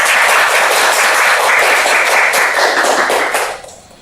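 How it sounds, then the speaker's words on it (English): An audience at a Toastmasters meeting claps in a dense, steady burst of applause that carries on for a few seconds, then quickly fades out. "So please give everyone today a big round of applause."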